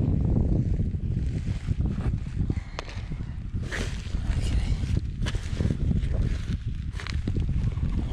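Strong wind buffets the microphone at a lakeside campsite by Lake Turkana in Kenya, a constant low roaring rumble with gusty surges and no talking.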